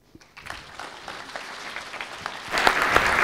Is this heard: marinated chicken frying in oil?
no